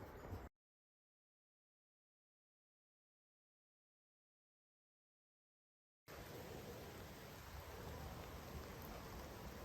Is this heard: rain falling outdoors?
yes